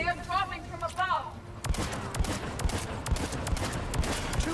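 Rapid bursts of gunfire from a mounted gun in the game Mass Effect 3 crackle in a steady stream of sharp cracks, loud and close, after a short stretch of shouted voices.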